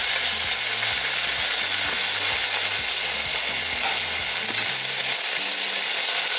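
Chicken wings frying in a pan with a dense, continuous sizzle and crackle, loud and close, accompanied by a low rhythmic background pattern, with no talking.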